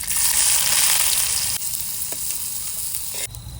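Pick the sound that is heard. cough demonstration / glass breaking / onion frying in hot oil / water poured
onion frying in hot oil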